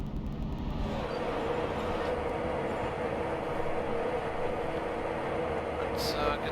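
A Class 92 train in the Train Sim Classic video game rumbles steadily across London, a continuous loud rolling drone with rhythmic wheel clatter and a brief high squeal near the end, while someone talks over it.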